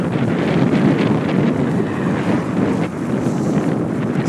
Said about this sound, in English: And of course, a headwind.